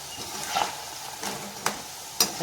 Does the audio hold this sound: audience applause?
no